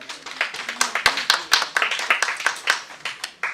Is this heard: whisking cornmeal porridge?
no